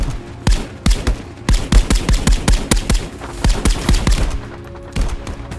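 SMG fire in a VR video game, rapid bursts of sharp, punchy shots in uneven clusters, loud and close with short pauses between volleys.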